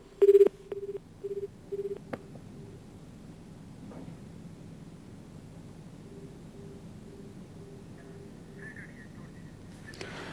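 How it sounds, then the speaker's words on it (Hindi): A phone call dropping out on a poor network line: a few short electronic beeps at the start, then a faint hiss with a thin repeating tone and a brief chirp near the end. "नेटवर्क की प्रॉब्लम की वजह से बार बार फोन कट रहा है जयंत जी का।"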